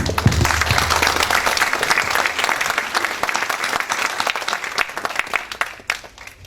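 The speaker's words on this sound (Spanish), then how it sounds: "para el cual pido un caluroso aplauso" Warm audience applause at a round-table evening talk on the Lima Metro Line 2 and earthquake-resistant design, a dense, steady crowd clapping that carries on for several seconds, then begins to thin and fade near the end.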